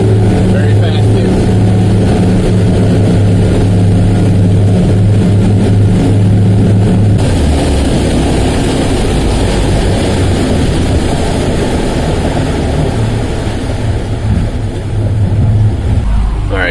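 Yamaha outboard engines on a Contender boat roar steadily at speed, with loud, constant drone and wind and water rush filling the clip from start to end.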